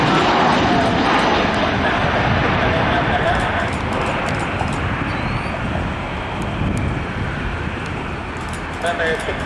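A Qatar Airways Airbus A350-1000 on its inaugural arrival at Dallas/Fort Worth, a loud continuous jet engine roar with heavy wind noise on the microphone, slowly easing off as the aircraft lands.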